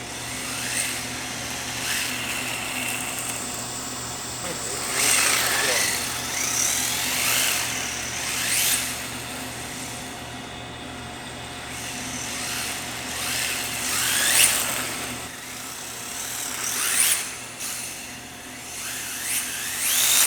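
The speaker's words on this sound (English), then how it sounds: "Now the car is driving way better now, a lot smoother" Whiny high-pitched electric motor of an MST 2.5 RC car with adjustable links and a tuned ESC, rising and falling steadily as it drives around, with repeated revving bursts over about twenty seconds.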